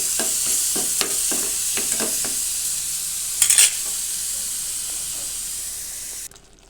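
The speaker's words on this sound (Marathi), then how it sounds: "याच्यामध्ये ही केलेली पेस्ट टाकूया। हलवून घ्यायचं।" Spice paste frying in oil in a wok for a jackfruit dish, with a run of scraping spatula strokes and a steady hiss of sizzling, a brief louder burst partway through, then the sound cuts off.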